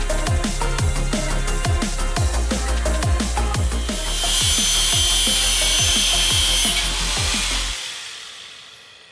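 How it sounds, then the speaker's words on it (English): A hand file rasps steadily back and forth across a slot in a steel plate, loud and close with an even rhythm of strokes, ending in silence. "After much filing, we've got the slot here taken out to size so that it can fit onto the sash clamp"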